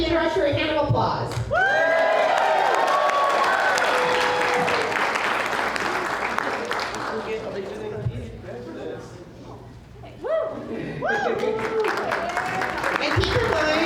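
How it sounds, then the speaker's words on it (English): A convention crowd at a closing ceremony applauds the training director, a loud, sustained wash of clapping with a few whoops that fades and briefly swells again, while a voice talks over it. "Give our training director a hand of applause."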